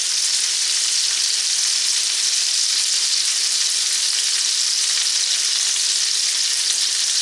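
Garlic paste frying in a skillet for fried rice, a loud continuous bright sizzle that stays even and unbroken from start to finish, close and with no talking.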